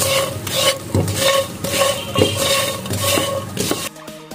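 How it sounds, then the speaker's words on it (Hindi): Bread slice pieces fry in a pan with a soft sizzle beneath repeated clinks and scrapes of a utensil stirring against metal, close and steady, before the sound drops away near the end. "स्लाइस के हमने पीसेस किए थे, अब हम वो फ्राई करेंगे।"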